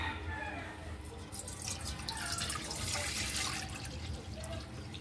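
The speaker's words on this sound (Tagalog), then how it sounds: "Lagyan po natin ng tubig mga idol." Water is poured from a tap or container into a cooking pot for a fish and vegetable soup, giving a steady, faint splashing stream that runs throughout.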